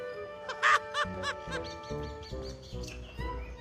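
Chickens being put indoors at dusk call out in a string of short, close clucks and squawks, with a louder burst near the start and softer calls following in an uneven rhythm.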